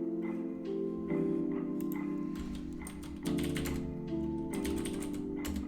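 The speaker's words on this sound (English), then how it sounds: "occasionally it doesn't catch my keystrokes" Keystrokes on a computer keyboard come in irregular bursts of typing, close and steady, over a sustained background hum with no speech.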